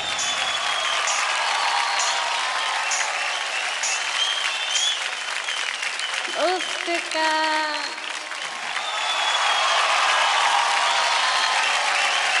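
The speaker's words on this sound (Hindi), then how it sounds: "जोरदार तालियां हो जाए" Audience applause after a dance duo's performance on a televised Indian dance competition stage, a dense, loud, steady clatter of clapping from a large crowd that continues throughout, with a brief whistle or cheer partway through.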